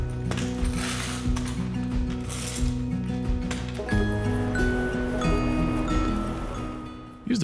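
Clamps are cranked tight on glued maple boards, giving a run of close ratcheting clicks and metallic clinks with brief ringing tones, the steady rhythm broken by a few louder clanks.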